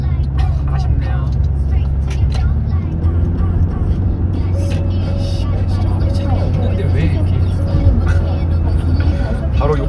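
Steady low engine hum and road rumble fill a car driving along the road, a constant close drone with faint passing-traffic swells and occasional quiet voices inside.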